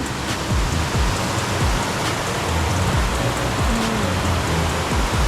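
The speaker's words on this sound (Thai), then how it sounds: "ติดกับลำธารนะคะ" A mountain stream flows right beside a homestay room, giving a dense, steady rush of water with soft patter and gurgle, close and continuous with no voices.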